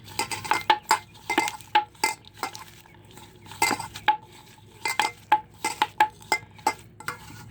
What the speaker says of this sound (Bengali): হালকা লবণ দিয়ে আমি মেখে নিচ্ছি।